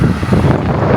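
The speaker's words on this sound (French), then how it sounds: "juste pour écouter les rafales de vent qu'on se prenait dans la gueule" Strong gusts of wind buffet the microphone while cycling on a long ride, a loud, close, rumbling roar that fills the whole second without a break.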